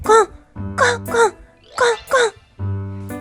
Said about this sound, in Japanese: まだお咳が出るね